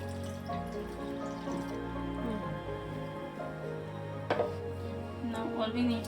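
Water, 200 ml, poured into a bowl of khaman dhokla batter mix with sugar and citric acid, a steady close trickle and splash lasting several seconds.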